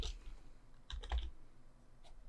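Typing on a computer keyboard while setting up a robot-programming variable: a few soft, close key clicks in two short clusters over a quiet background, no speech.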